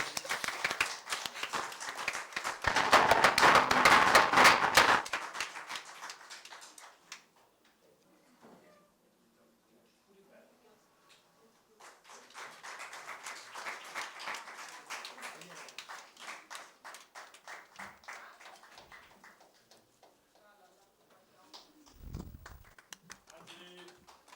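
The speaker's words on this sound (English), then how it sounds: "Round of applause, please." Audience clapping at a school inter-school quiz competition, a burst of applause early on that fades, then a second longer round of claps later, with an announcer's voice between.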